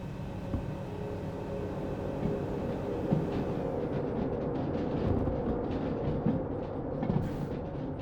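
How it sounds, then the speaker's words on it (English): A train rolls along in the Derail Valley video game with a steady, continuous rumble and rattling wheel clatter, loud and close throughout, alone without talk. "we're just going to drive the train through"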